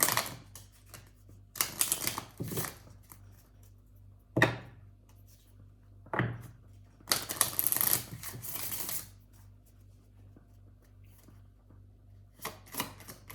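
Tarot cards being shuffled by hand in several separate bursts, each a crisp riffling flutter lasting one to two seconds, with quiet pauses between and a low steady hum underneath.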